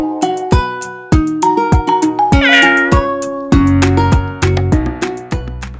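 Adopted stray cats at a cat cafe in Thailand meow loudly and close, a rapid string of overlapping yowls and mews, some long and drawn out, with no talk.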